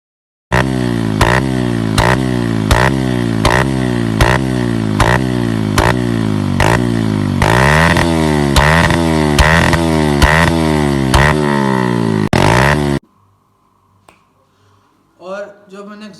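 A Yamaha YBR 125 fitted with an aftermarket exhaust revs hard and close in a rapid series of about a dozen sharp throttle blips, rising pitch each time, then cuts off abruptly before a brief voice is heard.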